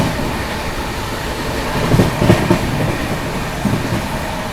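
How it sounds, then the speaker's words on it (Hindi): Odisha Sampark Kranti express train running through a station without stopping, heard from inside a second AC coach as a steady rumble with a few rhythmic wheel clacks. "बदान रेलवे स्टेशन स्किप कर रही है अपनी ट्रेन।"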